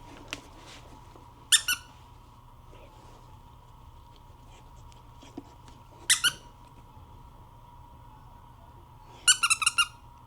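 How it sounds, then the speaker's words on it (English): A squeaky puppy toy squeaker gives three sharp bursts of rapid squeaks, spaced a few seconds apart, over quiet room background with a few small taps. "let's see how she reacts to a squeaker"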